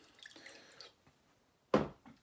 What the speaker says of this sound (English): I'm getting some more water.